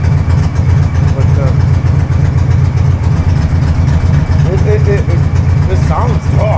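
A 2003 Victory V92C motorcycle with aftermarket exhaust idles close by, a loud, deep, steady throb with an even pulsing rumble; a voice faintly talks over it near the end.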